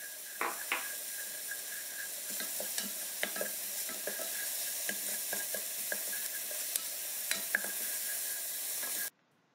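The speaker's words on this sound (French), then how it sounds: "sur un feu doux, et je fais revenir les oignons" Onions sautéing over low heat in a pan with salt and pepper, a steady soft sizzle running throughout with scraping spoon strokes and clinks as they are stirred, close and alone until it stops abruptly near the end.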